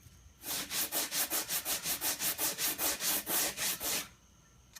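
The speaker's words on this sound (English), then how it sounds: "I'm putting the finish sanding on this bottom of the flaps" Steady back-and-forth finish sanding of the underside of wooden flaps by hand, about sixteen even rhythmic strokes, close and fairly loud, with no talking.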